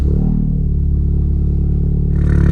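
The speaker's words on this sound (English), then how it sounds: "you just put it in sport and it just gets a little bit more aggressive" A tuned VW Golf R engine in sport mode holds a steady, low, throbbing idle up close, with a slight rise in noise near the end.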